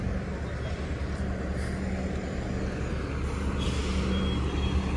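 A TTC city bus on Dundas Street West near Kipling station in Toronto lets out short hissing bursts of its air brakes over steady, loud street traffic rumble.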